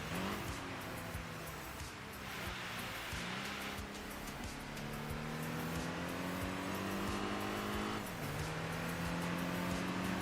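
A Toyota MR2 and a Corvette race in Enthusia Professional Racing, their engines droning close and steady as rising revs climb through repeated gear shifts over constant tire and road noise, with no voices.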